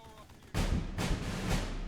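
Rolling, booming gunfire strikes a unit in the Burden of Command war game, a sudden loud onset followed by repeated heavy thuds under a continuous rumble.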